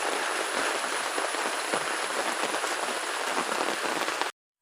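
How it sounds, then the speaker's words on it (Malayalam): Heavy monsoon rain pours steadily outside a house in Kerala, a dense, continuous hiss of drops on surfaces, loud and unbroken before stopping abruptly. "പുറത്തിപ്പോഴും നല്ല മഴ പെയ്യുന്നുണ്ട്."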